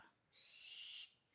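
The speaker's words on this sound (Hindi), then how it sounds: "उल्लू, है भाई उल्लू।" An owl calls at night near a railway river bridge: one faint, distant, hissing screech lasting under a second, alone against a quiet background.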